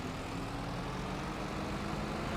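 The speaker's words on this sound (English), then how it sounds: "I'm loving the fork truck. It's a bit beaten up," A diesel fork truck engine in the Farming Simulator 25 video game, beaten up but working, drones as a steady low rumble that holds at an even level throughout, with no talk over it.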